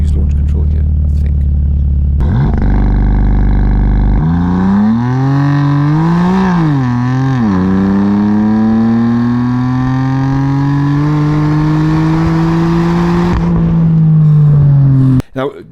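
A BMW M2 launching under launch control, recorded on a GoPro: the engine idles, bogs briefly, then revs hard and climbs steadily through a long loud acceleration before easing off at the end.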